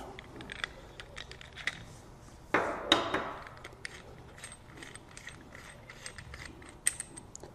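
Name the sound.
pulling a tool off a lower crank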